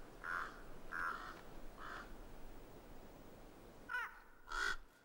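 Wild ravens give several loud, harsh caws in a short series, a few evenly spaced calls followed by a pause and two more closer croaking calls, heard alone outdoors.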